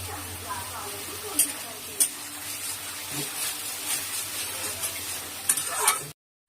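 Kashmiri chilli powder and salt fry in a pan for a Bengali duck egg curry. A steady sizzle runs under sharp spatula scrapes and knocks as the spices are stirred.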